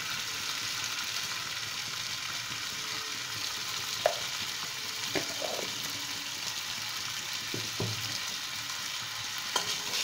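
Spices for a quick fish dish fry in a pan with a steady, even sizzle, broken by a few soft clicks and scrapes of stirring.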